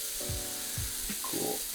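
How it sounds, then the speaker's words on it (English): Sourdough discard waffle batter sizzles and crackles in a hot waffle iron, a steady close frying hiss with a few soft clicks and shifts. "I've got a nice sizzle on the top of those"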